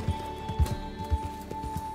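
Horses clip-clopping along a road in the video game Red Dead Redemption 2, several hoof strikes in an uneven rhythm at moderate distance over a steady ambient hum.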